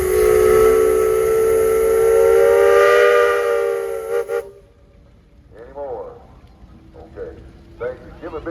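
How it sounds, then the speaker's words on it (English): A steam engine whistle blows at a steam and threshing show parade in Mason, Michigan: a loud, sustained, multi-toned blast lasting about four seconds that cuts off abruptly, followed by outdoor crowd ambience and brief voices. "Kevin, you got a whistle."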